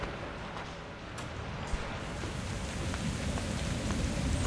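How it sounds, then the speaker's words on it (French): Continuous rainfall in the video game Survive the Nights hisses evenly throughout, a dense steady downpour with no voices, growing slightly heavier toward the end. "En plus, il pleut, c'est magnifique."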